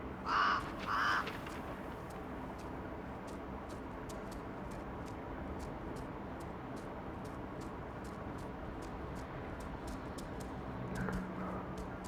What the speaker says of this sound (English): How am I gonna get to this bird? It just keeps flying away, man.